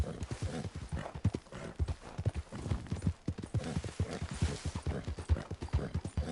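A horse's hooves clip-clop steadily over rocky ground in Red Dead Online, close and even in rhythm under a continuous outdoor ambience, with no speech.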